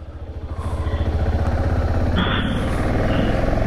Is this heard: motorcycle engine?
yes